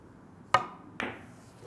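A billiard cue strikes the ball in a soft one-cushion shot played with full spin: two crisp, sharp knocks about half a second apart in a quiet room.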